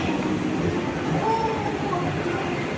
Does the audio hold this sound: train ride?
yes